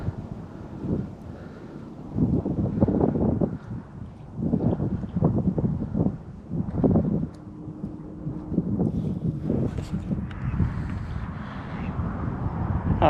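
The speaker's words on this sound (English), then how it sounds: "sorry about the wind noise" Gusty wind buffeting an outdoor microphone beside a lake while fishing for rainbow trout, with loud low rumbling bursts rising and falling unevenly through the whole stretch and no talking.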